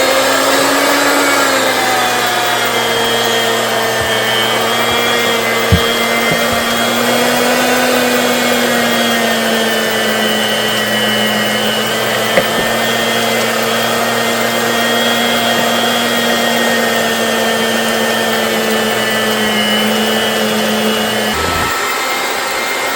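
An electric meat grinder runs steadily on cubed beef chuck roll, a loud close motor whine with a constant hum and a mechanical drone that hardly changes, and a couple of small knocks come through as the meat feeds in.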